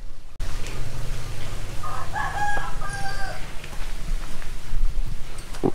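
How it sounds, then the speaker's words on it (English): A rooster wandering among buildings in Bangkok, Thailand, crows once in the middle, a clear but moderate call over a constant low hum of city background noise. "There's a chicken."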